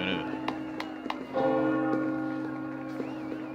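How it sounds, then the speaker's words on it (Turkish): Church bells peal for a wedding in the Assassin's Creed Valhalla video game, several strikes ringing out over a sustained, humming tone that lingers throughout. "Çanlar çalınıyor, ilan ediliyor."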